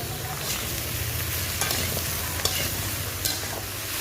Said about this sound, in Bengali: লাউ কিছুক্ষণ আমি মশলার সঙ্গে ভেজে নেব দিয়ে দেবো হলুদ গুঁড়া স্বাদ মতো লবণ